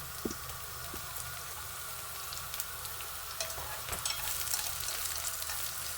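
Onion sautéing in a pan with garlic and ginger for sweetened braised pork belly, a steady close sizzle and frying hiss with a few light stirring clicks and scrapes, no voices.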